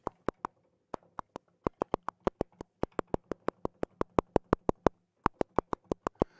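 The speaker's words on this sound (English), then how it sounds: "It's just simulating the click of the key." A steady run of sharp, dry simulated key clicks from a Philicorda vintage transistor organ app, about four per second with brief pauses, with no musical tone, over a faint low hum.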